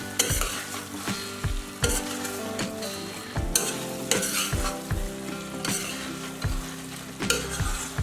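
Boiled taro root fried in a pan on high flame, a loud constant sizzle broken by repeated rhythmic scrapes and knocks of a spatula stirring against the pan.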